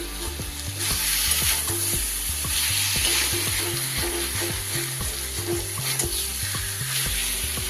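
Loitta dried fish with potatoes and vegetables sautéing in a pan, a loud, close sizzle broken by regular rhythmic scrapes and knocks of a spatula stirring the mixture.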